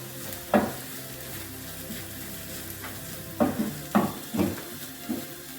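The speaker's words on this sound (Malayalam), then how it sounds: "പച്ചമണം മാറുന്നത് വരെ ഒന്ന് ആ ഉള്ളിയിൽ തന്നെ ഒന്ന് മൂപ്പിക്കും, തീ കുറച്ചിട്ട്." Onions fry over a low flame in a pan with black pepper powder for a Kerala chicken thoran, a steady soft sizzle broken by several louder stirring scrapes near the end.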